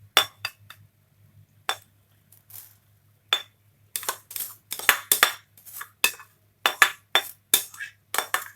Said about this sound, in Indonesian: Ini kita tutup, kita rebus sampai empuk ya sahabat